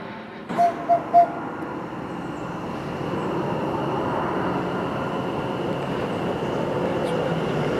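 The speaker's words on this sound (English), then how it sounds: "I believe that was a depot whistle from that driver there" A train driver sounds a depot whistle on the Cross City Line between Gravelly Hill and Erdington: three short, close pips, then the steady rumble of the train rolling along the track for the rest of the time.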